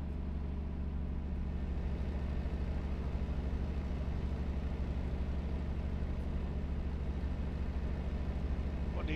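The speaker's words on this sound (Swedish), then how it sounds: "som ni hör så är det lite mod som jag har, så att få ljudet att låta bättre för motorn" A modded truck engine in Euro Truck Simulator 2 drones steadily throughout, a constant low rumble of a heavy engine running with no talk over it.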